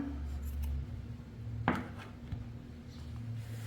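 Scissors snip crochet yarn after a small loop of slack is left while finishing a star-pattern basket, one short crisp cut followed by faint handling rustle in a quiet room.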